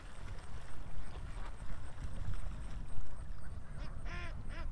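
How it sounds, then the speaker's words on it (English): Ducks quack a few times from a short distance over a steady outdoor rumble, with the clearest calls bunched near the end and a faint wind-like hiss throughout. "we got some ducks swimming actually behind me here"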